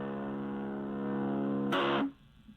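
An SVISound Distozoid CY-2 distortion pedal plays at high volume at low gain, sustaining a buzzy distorted note that jumps to a louder, harsher burst before cutting off abruptly into quiet.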